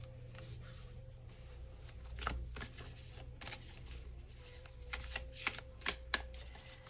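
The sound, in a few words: shuffling Wild Offering Oracle cards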